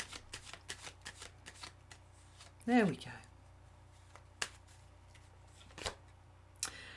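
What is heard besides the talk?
shuffling tarot cards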